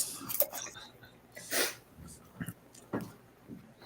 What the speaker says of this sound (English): She sneezed all over me for like 10 times.